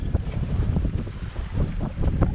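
Steady wind buffeting a microphone outdoors on a boat in Casamance, Senegal, with low rumbling gusts and water sloshing against the hull, continuous and fairly loud throughout.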